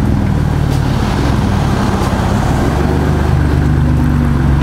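A lifted 2022 Ford F-150 with a four-tip exhaust gives a steady, loud, deep rumble that holds evenly throughout, close by, with no talking over it.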